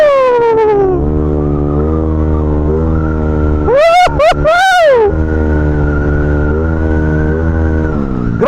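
A Yamaha Aerox V2 215cc scooter engine idles close up with a buzzing hum, then is blipped several times in quick succession, sharp rising and falling revs, before settling back to a steady idle.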